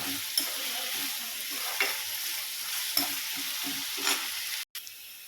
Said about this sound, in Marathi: आपला कांदा जो आहे तो व्यवस्थित आता फ्राय झालेला आहे